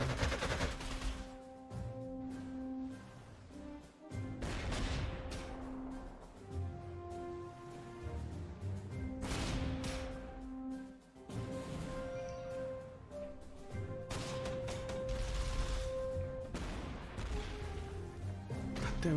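Anti-aircraft gunfire in the WWII strategy game Panzer Corps 2, sustained bursts of rapid shots and heavy booms layered over each other across the whole stretch, with a battle soundtrack running underneath.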